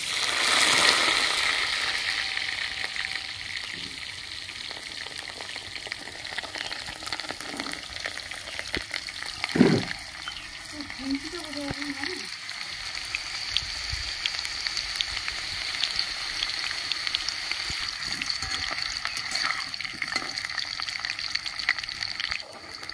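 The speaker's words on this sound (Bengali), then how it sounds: "কড়াই তেল গরম হয়ে গেছে, আমি আলুটা দিয়ে দিচ্ছি।" Potatoes sizzle and crackle in hot oil in a karai, a continuous hiss with occasional sharper pops and a brief clatter of stirring.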